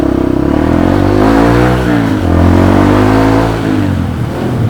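A Honda CRF150L fuel-injected motorcycle, warmed up, revs close by as the rider sets off, its engine note rising and dipping in pitch through a loud, steady drone.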